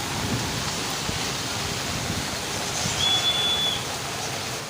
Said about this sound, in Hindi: ये देखिए आप बारिश देखें, देख रहे हैं आप